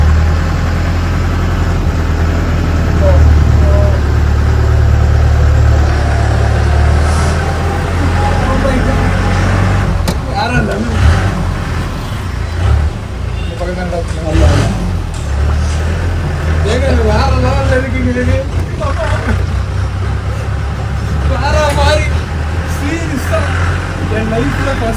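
A Willys US military Jeep's engine idles and runs with a steady, deep, loud rumble throughout, while someone talks over it and other voices join in.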